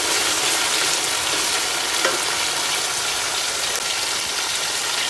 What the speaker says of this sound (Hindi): इतना भूनना है कि चिकन अच्छी तरह भून जाए और कलर भी गहरा सा आ जाए